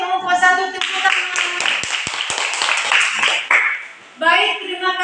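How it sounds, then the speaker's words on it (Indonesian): A school class claps for a group presentation: brisk, close, uneven handclaps in a short burst, with a teacher's voice heard before and after. "Terima kasih kelompok 1, tepuk tangan."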